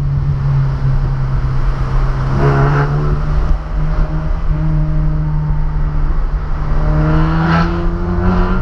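Mazda MX5 110 hp running with no exhaust, a loud, close, raw engine note with a steady low drone and rising and falling revs throughout.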